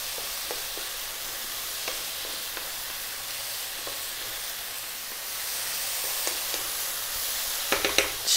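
Oyster, shiitake and shimeji mushrooms sizzle steadily in a hot pan for vegan tom yum soup, with a spatula scraping and clicking through the continuous frying hiss and a few louder knocks near the end.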